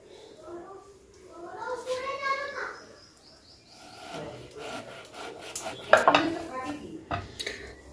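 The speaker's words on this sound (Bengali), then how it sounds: "ততক্ষণে আমি লেবুটাকে কেটে নেব" A knife slices a lemon into thin pieces with soft rubbing strokes and a few sharp clicks on the board, up close, while a person talks.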